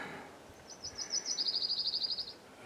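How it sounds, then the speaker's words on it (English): Birds sing near a campsite: a bright, fairly close series of rapid repeated chirps builds into a quick rhythmic trill lasting under two seconds, over quiet outdoor background. "Listen to the birds singing"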